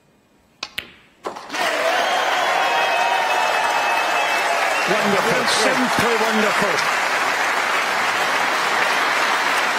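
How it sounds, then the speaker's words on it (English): Snooker crowd at the UK Championship final bursts into loud sustained applause after a couple of sharp early claps, with a commentator talking over it partway through. "Wait for the applause then."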